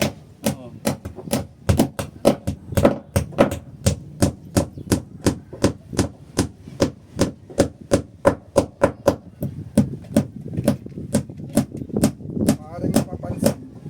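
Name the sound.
hammering with a hammer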